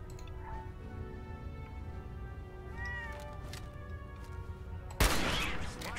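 Cat meowing in the Fallout 4 video game, a few mewing calls over a steady game background hum, then a sudden loud burst of gunfire near the end.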